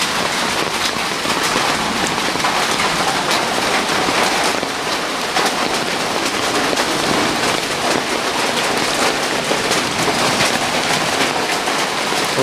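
Steady rain falls outdoors near a pipe setup, a dense, loud wash of drops hitting surfaces that continues without a break and with no voices.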